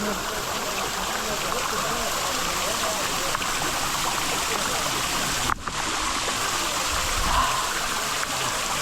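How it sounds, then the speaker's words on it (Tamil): Spring water flows steadily through dense forest on a trail toward Sathuragiri, a continuous close rushing with a brief dropout midway and a slight swell near the end. "எப்படி தண்ணி வந்துக்கிட்டு இருக்கு பாருங்க"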